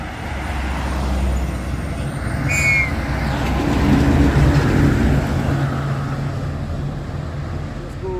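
A water tank truck at a roadside accident scene where a cab went into a ditch: a heavy diesel rumble swells and eases, with a short hissing burst partway through.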